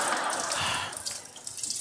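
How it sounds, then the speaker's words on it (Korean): Water runs steadily from a faucet in a continuous hissing stream, close and fairly loud, with no voices over it. "여기 수도꼭지 틀어놓은 것 같은데."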